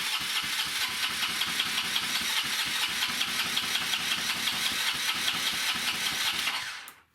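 A Honda Elite 150 Deluxe scooter under restoration cranks over and over with a rapid, even chugging pulse and fails to catch, then the starter cuts out and goes quiet at the end.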